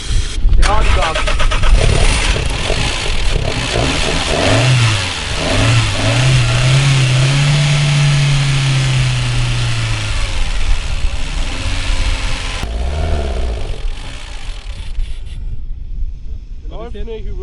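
A Volkswagen Golf 3 engine churns and revs loudly and steadily for several seconds while cranking without starting, out of fuel, then cuts out, leaving quieter background noise.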